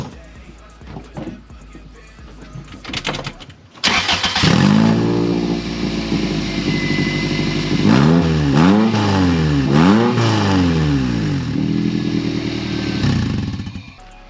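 A Toyota MR-S with a JDM engine swap and an aftermarket exhaust starts up loudly after some quiet talk, then idles and revs several times in quick rising and falling sweeps, close and dominant.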